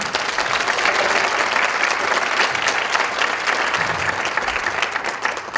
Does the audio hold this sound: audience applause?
yes